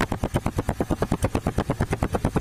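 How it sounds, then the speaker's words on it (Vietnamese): A small gasoline motorcycle engine on an MD-frame 110 with an MB33 magneto runs steadily, giving off a rapid, even train of close, loud thumps with no talk over it. "Nè máy nổ nè."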